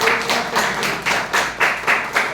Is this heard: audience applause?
yes